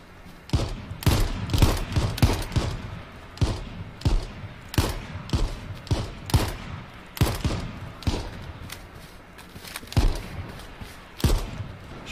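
Repeated gunshots in the battle royale game H1Z1, sharp cracks arriving in irregular clusters and bursts, some close and loud, others slightly softer, with no talking over them.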